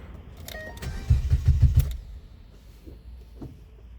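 A 2011 Ford Fiesta cranking over with a quick rhythmic starter churn, a short rev as the gas is pumped, then the engine fading back to a quiet idle, close by.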